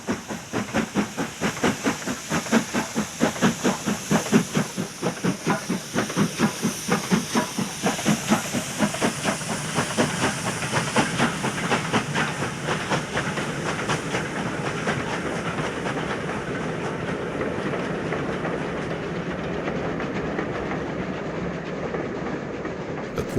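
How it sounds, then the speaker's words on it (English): Two Black 5 steam locomotives, 4767 and 5407, pull away from Appleby in a loud, steady rapid exhaust beat over hiss and rolling rail clatter, the chuffing blurring as they draw off. "Leaving Appleby, Black 5s 4767 and 5407 which have worked regularly on the main line for many years"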